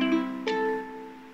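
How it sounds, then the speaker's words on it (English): A ukulele sounds a strummed chord that rings on, then a second strum near the half-second mark whose sustained tones slowly fade. "We're going to show you how to play the ukulele today."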